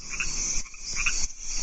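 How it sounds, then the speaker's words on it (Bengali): Frogs croak in a dense, steady chorus at a rain-filled village pond at dusk, the calls rising and falling in waves with brief dips in loudness. "অন্ধকার নামার আগেই ব্যাঙের দল ডাকাডাকির কাজ শুরু করে দিয়েছে।"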